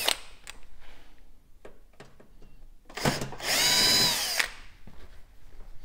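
Power screwdriver backing out the screws that hold the rear panel of a hot-air fan oven, a loud whirring burst of about a second and a half after several sharp clicks and handling knocks, with no talking.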